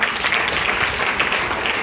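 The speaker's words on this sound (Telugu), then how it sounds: "క్లాప్స్ కొట్టండి." An audience applauds to honour teachers at an award ceremony, a steady, dense burst of clapping from a crowd that carries on evenly for a couple of seconds with no voices over it.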